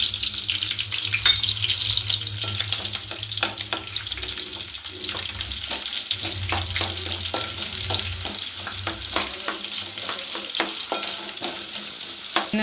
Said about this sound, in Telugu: అవి వేగిన తర్వాత ఉల్లిగడ్డ, పచ్చిమిర్చి,